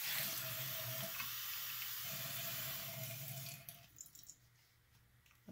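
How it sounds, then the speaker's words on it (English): Water pours steadily into a folded origami paper cup, a continuous close splashing rush that thins and breaks into small drips near the end. "And now I'll show you guys that it could actually hold water."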